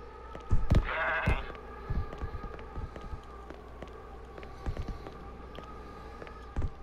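Goat bleating in the video game Zanki Zero, a loud wavering bleat near the start followed by scattered thumps and footsteps over a steady hum.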